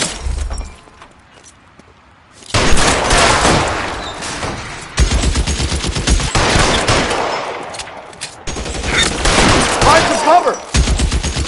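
Bursts of heavy gunfire in the crime video game L.A. Noire: a brief quiet opening, then loud sustained volleys and rapid shots with breaking glass, separated by short gaps.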